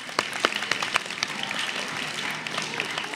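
A school audience at a grade 9/10 spoken word poetry event claps for a poet, a burst of scattered hand claps that starts sharp and settles into steady, moderately loud applause throughout.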